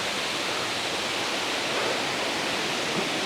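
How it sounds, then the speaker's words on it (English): A waterfall on the Monk's Trail in Chiang Mai, Thailand, pours in a constant, loud, broadband rush of flowing water, steady and unbroken throughout. "And the cool water flowing."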